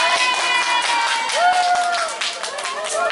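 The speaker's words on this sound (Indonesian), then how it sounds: "Tepuk tangan untuk kita semua." Applause at a school recitation contest: an audience claps in a burst of fairly dense clapping, with voices and cheering mixed in over a few seconds.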